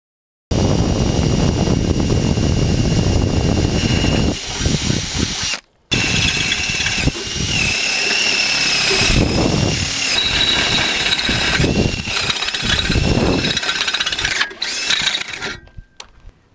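A power drill bores holes for an axle swap, loud and close, its whine rising and falling through repeated drilling runs with short pauses between them and no talking.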